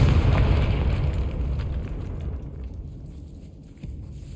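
A Confringo spell in Hogwarts Legacy bursts in a loud, rumbling explosion that trails off into a fading roar over several seconds, with no voices.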